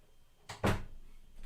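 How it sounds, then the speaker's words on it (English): A door swings shut in a home with a quick thump and brief rattle, a single close knock with quiet room tone before and after. "I'm going to shut the door"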